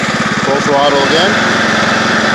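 A Craftsman YT3000 lawn tractor engine, smoking and apparently dragging, runs at full throttle with a loud, steady, fast-pulsing drone up close, without speech.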